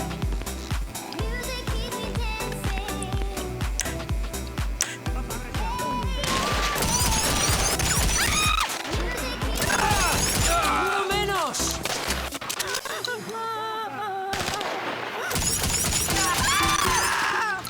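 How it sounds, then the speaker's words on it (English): Rapid, loud gunfire from the GTA Online Cayo Perico heist, dense bursts of automatic shots and crashing impacts pounding almost nonstop with a narrator talking over the fight. "So in here I take cover behind this wall and start shooting."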